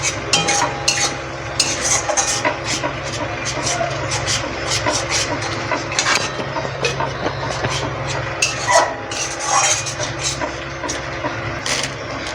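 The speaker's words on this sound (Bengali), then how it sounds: "আমি এটা ভালো করে মশলার সাথে নেড়ে নেড়ে কষিয়ে নেব।" Spoon stirring yogurt into spices in a pan for doi katla, Bengali yogurt fish curry, with repeated scraping strokes over a steady low background hum, close and moderately loud.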